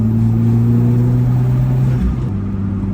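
An Alfa Romeo 4C with a Stage 1 ECU tune drones loudly at a steady engine note under load, the pitch shifting slightly near the end, with no speech.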